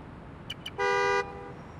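Car horn honking in Marvel's Spider-Man: Miles Morales: two short faint beeps followed by a single loud, steady honk lasting about half a second, heard over a low ambient hum.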